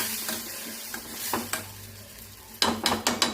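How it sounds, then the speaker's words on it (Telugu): Saag curry sizzling in a pan after water is added, with soft frying hiss under scraping stirs of a utensil against the pan, ending in a few louder, rhythmic strokes. "ఇప్పుడు కొద్దిగా వాటర్ కలపాలి, కొంచెం బాగా వేగనివ్వాలన్నమాట"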